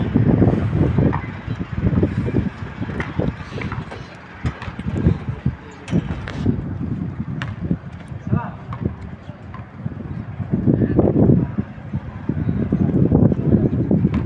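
Strong wind gusts roar steadily through an outdoor basketball game before a sandstorm, a loud broadband rush swelling and easing throughout, with voices shouting and talking over it.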